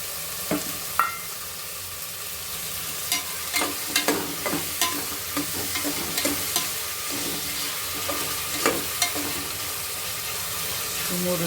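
Fresh green peas fry in a pan for vangibath with a constant low sizzle, punctuated by repeated close scraping and tapping strokes of a spoon as they are stirred.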